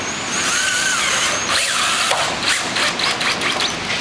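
A power drill drives screws through a bracket on a Southern porch rail system into a porch post, a steady mechanical whir with ratcheting clicks running loud and close throughout.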